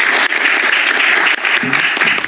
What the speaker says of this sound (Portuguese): A plateia aplaudiu os discursos.